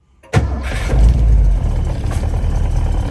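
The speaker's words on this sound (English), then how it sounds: "I just want to bump the switch and see how it hot starts." A hot car engine cranks over and catches sharply, then settles into a loud, steady running rumble close by.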